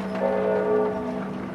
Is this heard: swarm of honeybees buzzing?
no